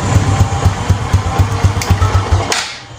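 A motorcycle engine with a 4-pin CDI idles with a loud, close, even chugging beat, then dies abruptly when its charging wire is disconnected, leaving a short fading hiss.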